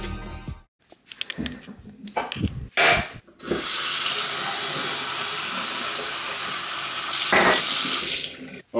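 A kitchen tap runs to fill a glass in the morning, with a few clinks and handling sounds first, then a loud steady gush of water that swells near the end and stops abruptly.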